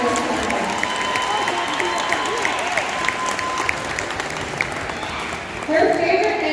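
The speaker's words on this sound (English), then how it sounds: "let's give Kinsey an extra special round of applause" A crowd at the Orrville High School Class of 2024 senior night applauds and cheers for a cheerleader named Kinsey: sustained, fairly loud clapping with cheers, a voice faintly underneath, and a final swell.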